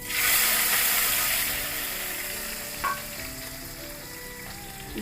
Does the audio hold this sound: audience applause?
no